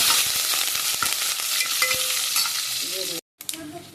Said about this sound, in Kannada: ಚುಲ್ಪು ಸಾಸಿವೆ ಹಾಕಿ ಒಗ್ಗರಣೆ